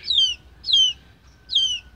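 A sick chick in a village gives three clear, high descending peeps, evenly spaced and close, with quiet background between them.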